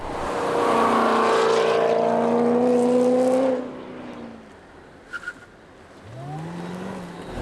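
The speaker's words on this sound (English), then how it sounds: "It loves to go real fast in a straight line, and as you can see here today, it's no slouch in the corners either" A 730 horsepower car races around a track, its loud engine note sweeping upward under hard acceleration, then cutting off and fading before a further, quieter pass rises again in the distance.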